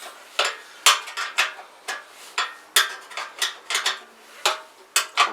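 Metal parts clink and tap in quick, irregular bursts as a bracket is unbolted from a Kawasaki BN125 Eliminator motorcycle, sharp close knocks and rattles of tools and bolts with no talking.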